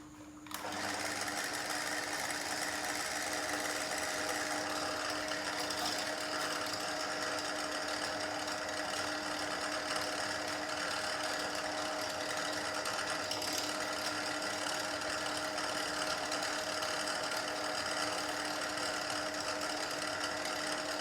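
A steady, high-pitched mechanical whine from a power drill boring a marked hole, running continuously and evenly at constant speed for about twenty seconds, close up.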